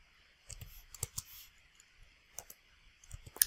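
A handful of light plastic key clicks in short irregular bursts, close by and fairly quiet, with pauses between them and no talking.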